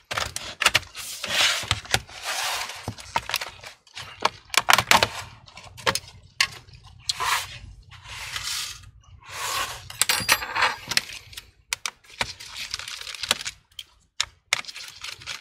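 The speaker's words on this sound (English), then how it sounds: "I'll be using a plastic prying tool to run across it" Plastic prying tool run along the plastic case of a cracked HP 14 laptop, a series of close, sharp clicks and snaps as the clips release, with short scraping bursts in between.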